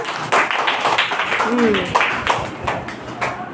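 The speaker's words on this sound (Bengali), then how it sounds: "ওকে একটা ধন্যবাদ তালি দেয় আমরা" Children in a primary school classroom clap together in thanks for a classmate, a quick run of bright hand claps over steady talk from the room.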